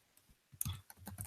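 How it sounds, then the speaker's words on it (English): Quick clicks on a computer keyboard while entering a channel name, a short burst of light, close taps after a brief quiet start. "typing in the channel name incorrectly"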